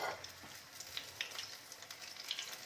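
Garlic paneer pakoras frying in hot oil over a slow, gentle flame, giving a steady close sizzle with soft crackling pops throughout and no voices.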